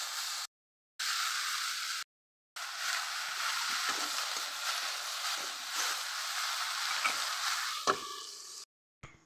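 Vegetables fry in hot oil in a pan, a close, steady sizzling hiss that runs continuously, broken by a few abrupt silent cuts, with faint clicks near the end.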